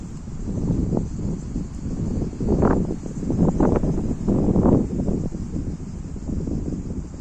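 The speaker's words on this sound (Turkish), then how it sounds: "Çok kötü rüzgar hızla esiyor" Steady low roar of wind buffeting the microphone near a wildfire at Kaykılar village, Bayramiç, Turkey, rising into stronger gusts midway before easing slightly, with no voices.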